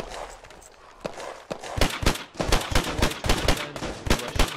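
Machine gun fire in Hell Let Loose, a steady run of sharp, punchy shots in quick succession, loud and fairly close, with a faint single shot at the start and no talking.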